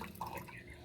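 Water drips from freshly washed pots. A single faint drip falls against quiet background noise.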